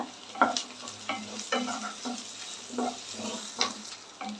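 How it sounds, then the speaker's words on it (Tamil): Garlic and ginger sautéing in a pan for chana masala, a steady soft sizzle with the repeated scrape and clack of a spoon stirring at moderate volume, no voices. "பூண்டு இஞ்சி இது ரெண்டுத்தையும் சேர்த்து இதையும் சேர்த்து கொஞ்சம் நல்லா வதக்கிக்கோங்க"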